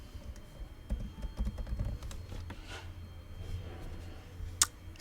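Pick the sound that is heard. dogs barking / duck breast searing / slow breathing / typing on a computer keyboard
typing on a computer keyboard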